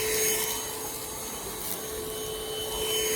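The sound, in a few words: Airbot Supersonics vacuum cleaner running on slow mode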